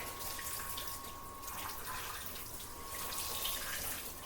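Tap water runs steadily into a sink, filling it for soaking clothes to be washed by hand, a continuous close hiss and splash with no voices over it.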